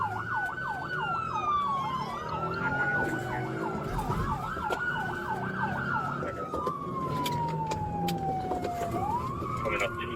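Emergency vehicle sirens wail in repeated rising-and-falling yelps, then a long slow sweep, moderately distant over steady road traffic noise.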